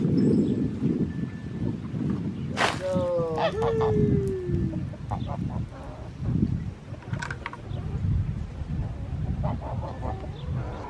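Chickens cluck and squawk nearby, with one drawn-out call standing out, over gusty wind noise and low background rumble.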